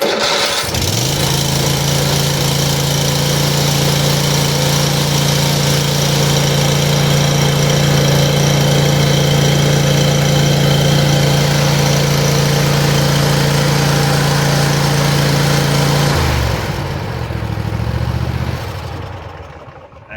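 A Cub Cadet ZT1 Ultima zero-turn mower with a 42-inch deck starts right away and idles with a steady, loud, close engine drone, then dips and changes pitch near the end.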